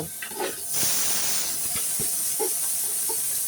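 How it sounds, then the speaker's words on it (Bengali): Rice for sweet pulao fries in a pot with a steady loud hiss and sizzle, broken by scraping stirs and a few soft knocks of the spoon against the pot. "এটা ভালোভাবে ভাজতে হবে যাতে তলানিতে লেগে না যায়।"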